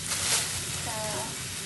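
Onion and garlic fry in hot oil, making a brief, steady sizzling hiss close by, with a faint voice briefly audible over it.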